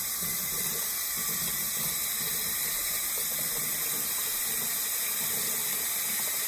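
Hot tap water runs steadily into a studio sink to rinse an oil-paint brush, a continuous close hiss and splash with no talking.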